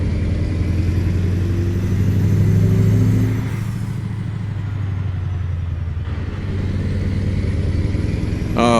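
A heavy truck descends a hill on its jake brake in American Truck Simulator, a steady low engine drone rumbling on without pause, easing slightly midway, with a faint clatter at the very end.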